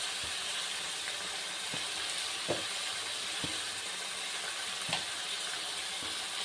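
Chili powder frying in hot oil for a fish curry, a steady close sizzle and hiss broken by a few soft scrapes of a spoon stirring the pan.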